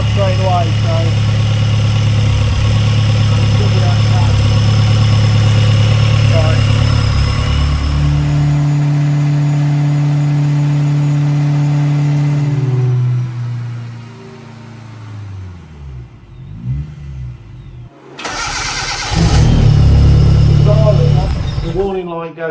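A car's engine idles steadily on a rolling road, then its pitch sweeps as it revs, with a loud, close hum running under ongoing conversation before a short quiet gap and a final burst of revving.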